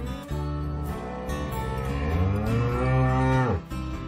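A cow mooing loudly and close, one long sustained low call with a rising and falling pitch, heard alone.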